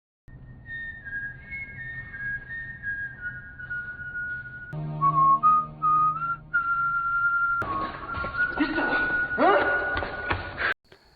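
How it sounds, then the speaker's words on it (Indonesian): A clear whistled tune, drawn-out pitched notes that rise and shift, later joined by a brighter, louder whistle with tapping and shuffling underneath. "ia mendengar suara siulan yang terdengar tidak asing baginya"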